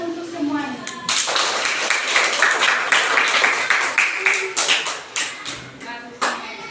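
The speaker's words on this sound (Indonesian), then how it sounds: "Tepuk tangan untuk semuanya." A classroom of students claps for their group work, with dense, lively applause starting after a teacher's brief spoken line and continuing to the end.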